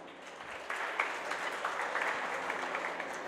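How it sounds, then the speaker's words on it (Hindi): Steady group clapping from a seminar audience at a cooking event, rising in strength partway through and continuing evenly without speech. "और दूसरी तालियां बजाए"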